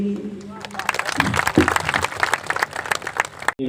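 Audience applause at a Hindi poetry gathering (kavi sammelan), a dense patter of hand claps that swells and fades, mixed with voices talking over it.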